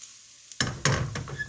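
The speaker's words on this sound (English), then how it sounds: "Let that sizzle a little bit." Garlic and ginger hit a hot pan for Korean spicy garlic chicken, breaking a half-second of quiet with a sharp sizzle, crackling spits and a few stirring clatters close by.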